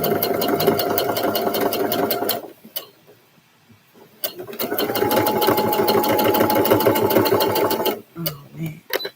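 A sewing machine stitching a seam on a scrub top, two loud close bursts of rapid rhythmic whirring separated by a short pause, with a voice talking over it.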